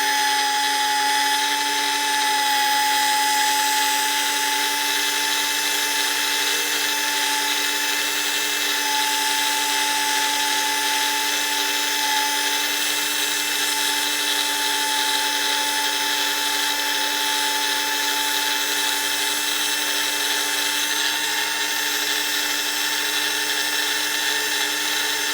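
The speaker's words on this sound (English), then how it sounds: "I get my file, which I'm going to do now, and kind of grind all this off" Urethane tires being ground down and trued, a continuous high-pitched whine from a spinning tire against a file, steady and loud with no pauses.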